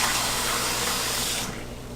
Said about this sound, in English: Just put some warm water in it, not too hot to burn you